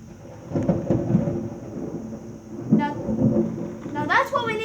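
Thunder rumbles in a heavy thunderstorm over steady rain, with low rolling booms building and fading twice, and a brief high cry breaking through near the end.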